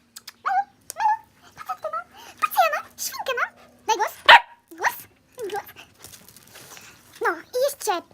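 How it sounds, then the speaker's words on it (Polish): A dog barks and yips several times in short bursts, mixed with a voice talking close by. "Czeka piesek."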